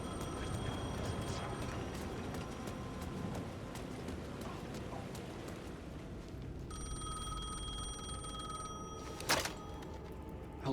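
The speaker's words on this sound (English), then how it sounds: "The phone was ringing again." A telephone rings in the Alan Wake II video game, its electronic tone starting partway through and continuing steadily over faint footsteps and ambient noise, with a sharp knock near the end.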